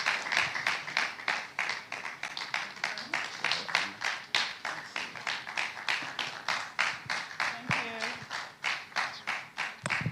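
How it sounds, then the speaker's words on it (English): An audience claps for a speaker at a business panel event, a steady, fairly distant patter of many hands that holds an even rhythm throughout. A brief voice sounds partway through. "Ladies and gentlemen, a round of applause for her."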